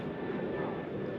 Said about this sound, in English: let's let that plane go by